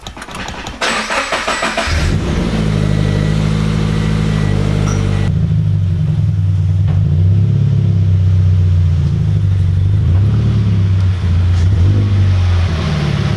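A car engine in a racing video game played on a wheel setup starts and then revs steadily, with a loud droning hum rising and falling in pitch as it accelerates.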